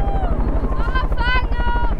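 A helicopter's steady rotor thump pulses throughout, loud and close, during a bungee jump from about 750 metres, while a person talks over it.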